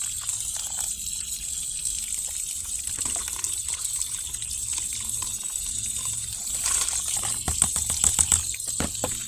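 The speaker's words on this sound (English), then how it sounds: "So we're just washing all of them, the bugs and all of that off." Fresh vegetables rinsed under running water outdoors, a continuous gushing splash that grows rougher near the end, with light rattling as the produce is handled.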